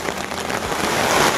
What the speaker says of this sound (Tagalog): Mga kalingap, bumuhos pa ang ulan. Grabe ang lakas.